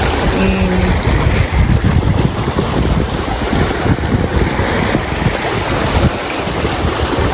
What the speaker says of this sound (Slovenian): Prepusti se sproščenemu šumu valov